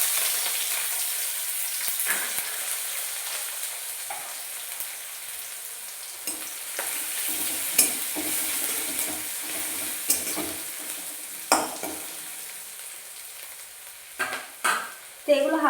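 Black cumin seeds with crushed garlic and chopped green chilli sizzle in hot oil in a pan, a loud steady hiss of frying with sharp crackles, scrapes and several clattering stirs toward the end, no speech.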